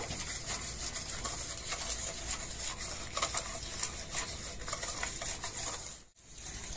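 Sugar and oil stirred together in a bowl for an eggless cake batter, a steady rhythmic scraping and rubbing of the spoon against the bowl, close up and unbroken, with a brief pause near the end.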